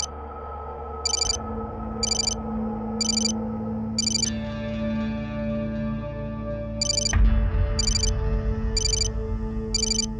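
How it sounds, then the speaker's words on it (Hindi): A phone rings in repeated short electronic bursts, about ten in all, over a steady tonal background hum that shifts partway through. "तुम्हारा फोन।"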